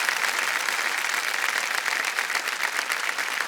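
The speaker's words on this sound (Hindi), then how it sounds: "जरा जोरदार तालियां बज जाए इनके लिए।" A studio audience on the quiz show Kaun Banega Crorepati Season 13 breaks into loud, dense, continuous applause, an even wash of many hands clapping at once with no talk over it.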